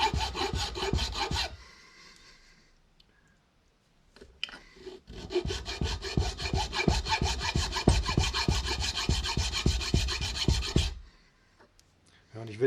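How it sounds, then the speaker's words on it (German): Hand filing off a leftover corner on the edge of sheet metal for a homemade bicycle mount, loud close rhythmic rasping strokes in two long runs with a short pause between. "Die feile ich jetzt nochmal weg."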